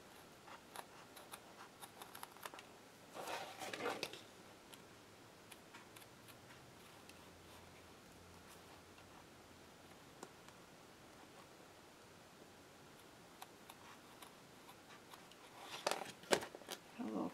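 Quiet, close snips of scissors trimming the corners of sewn fabric pockets, in two short bursts of crisp cuts near the start and again near the end, separated by a long near-silent stretch, with no talking.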